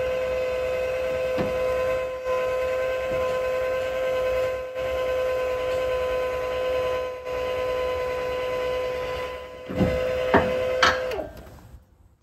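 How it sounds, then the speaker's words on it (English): An electric jack lifts a travel trailer tongue at a campground with a steady motor whine and hum, running continuously before stopping with a few clunks at the end. "They have electric jacks, so it makes it a lot easier."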